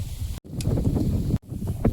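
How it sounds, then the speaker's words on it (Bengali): Steady gusty wind buffets the microphone with a low roar outdoors by a garden, briefly cutting out twice. "কি পরিমাণে যে হাওয়া এই জায়গাটা"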